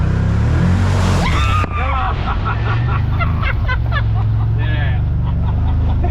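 A Can-Am off-road vehicle drives hard through mud and water, its engine roaring loud and close with splashing throughout, while people shout and talk excitedly over it.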